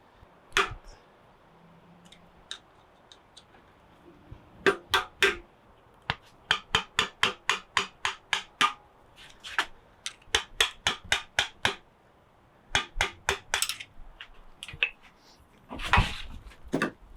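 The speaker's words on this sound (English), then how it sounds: "Flat bladed screwdriver to use as a drift, and a small ball peen hammer should do nicely." Small ball peen hammer striking a flat-bladed screwdriver used as a drift to knock out a seal in a garage workshop: bursts of sharp metallic taps in quick rhythmic runs, close and clear, separated by short pauses.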